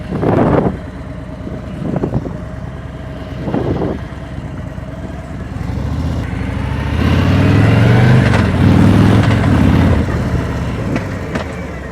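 Harley motorcycle shifting up through first, second and third gears with clutch control, the engine rising in revs through each gear, heard under heavy wind noise.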